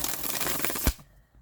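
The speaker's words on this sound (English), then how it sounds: "you can use that tarot deck, and you shuffle up" A tarot card deck being shuffled by hand, a dense rapid riffle of papery card flicks that ends in a soft thump and then quiet, close up with no talking.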